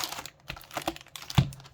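One Piece trading cards are shuffled close up in a few quick papery flicks and taps, ending with a louder snap, with no talking.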